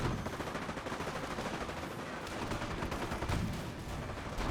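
Bursts of rifle and machine-gun fire crackle continuously in a Company of Heroes battle, a dense, busy wash of shots with no talking.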